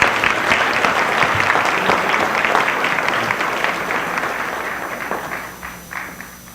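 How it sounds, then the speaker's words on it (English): Sustained applause from an audience at an MLK celebration event, a dense wash of clapping holding steady for several seconds before gradually thinning and fading near the end. "Please give them another round of applause."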